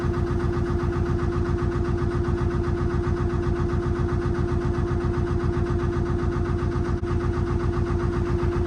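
Narrowboat engine chugging steadily while cruising toward a lock, a close, even low rhythmic throb with no voices.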